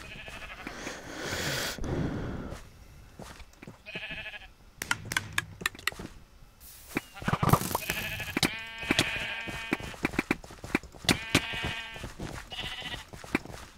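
Blocky sheep bleat over and over in a Minecraft Mineplex minigame, their cries overlapping with rapid clicking and clattering game effects, loud and close throughout with no talking.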